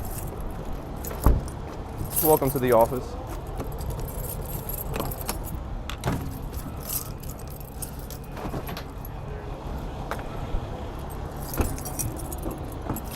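A bunch of keys jangles briefly near the start, up close, over the hum of a vehicle and background noise, with a few spoken words.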